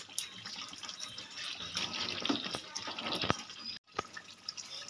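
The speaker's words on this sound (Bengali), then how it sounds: "এবার এর টেস্টটা আরও বাড়ানোর জন্য চিকেন রেজালা আমি একটু এই চামচে 1/2 চামচ কেওড়া জল দিলাম" Kewra water is spooned into a pot of chicken rezala, giving a soft liquid trickle and splashy clatter. It breaks off briefly near the end, and a couple of light clinks follow.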